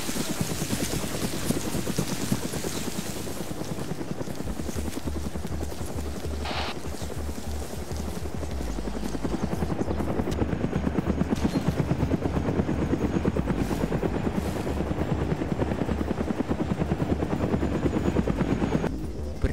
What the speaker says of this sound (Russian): Прячусь от вертушки под деревом.